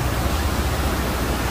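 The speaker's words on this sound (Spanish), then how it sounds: "Mira cómo está el río." Loud, unbroken roar of a river swollen after heavy rain, churning water rushing close by with no voices over it.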